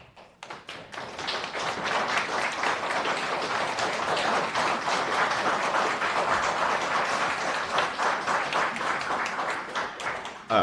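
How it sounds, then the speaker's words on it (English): Sustained applause from an audience at a city transportation committee meeting, a dense steady wash of many hands clapping that swells in quickly and holds loud and even for about ten seconds before tapering at the end. "Thank everybody for the applause"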